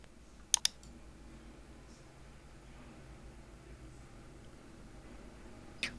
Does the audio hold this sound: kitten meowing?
no